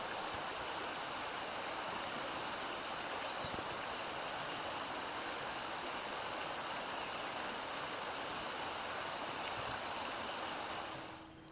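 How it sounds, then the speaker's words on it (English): A creek runs around and over rocks on a rainy June day, giving a steady, even rushing and babbling wash of water that holds constant throughout. "watched the ripples caused by the water flowing around and over the rocks in the creek"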